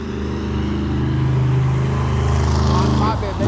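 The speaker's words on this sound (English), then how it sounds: "Because not quite far enough away from the monster truck yet." A loud monster truck engine at Truckfest Newark drones steadily with a deep, harmonic rumble close by. It swells slightly before shifting pitch near the end, and a voice may be talking faintly beneath it.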